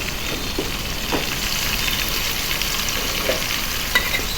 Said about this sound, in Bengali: আদা বাটা দিয়ে কিছুক্ষণ ভেজে নেব